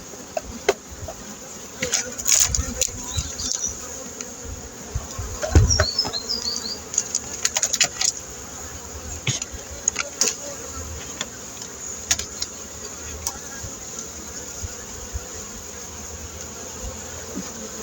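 Honeybees hum in a steady, continuous drone from an opened hive being readied for winter, with occasional knocks and handling clicks from the beekeeper's work close by.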